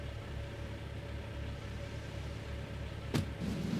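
A vehicle engine idles steadily in the game GTA Vice City as a low, constant hum, broken near the end by a single sharp click.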